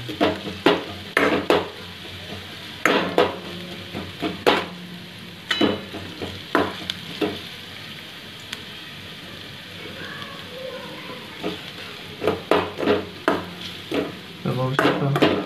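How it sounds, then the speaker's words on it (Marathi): Onion, garlic and other ingredients for pasta are stirred in a pan over medium heat, with a soft background sizzle broken by repeated clattering spatula scrapes in irregular bursts, close by. "लसूण टाकून घेऊया. सर्व मटेरियल्स परतून घेऊया. गॅस मीडियम ठेवूया."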